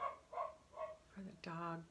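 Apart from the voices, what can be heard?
dog barking in the background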